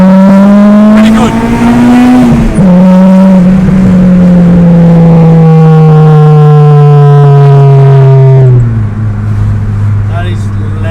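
A Honda Integra Type R DC5 with a BYP 70 mm titanium exhaust revs loud and close. The engine climbs in pitch, then holds a steady, slowly sagging drone for several seconds before dropping off near the end.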